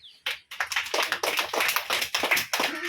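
Hands clap in a quick, dense burst of sharp claps from a small group of children at home, close and loud, lasting a few seconds with no talking.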